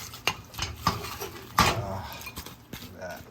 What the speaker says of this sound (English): I want to stir this up real quick. Get all the sauce everywhere.